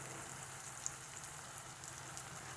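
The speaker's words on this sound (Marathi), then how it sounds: "हळद आता परतून घेऊया व्यवस्थित." Turmeric frying in hot oil in a pan gives a steady, even sizzle that carries on unbroken, close and fairly quiet, with no one talking.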